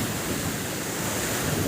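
A mountain river near Govind Ghat rushes in a continuous loud roar with wind buffeting the microphone, and no voices.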